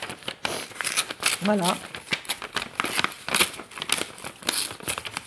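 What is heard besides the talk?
roughly cutting it up for a spell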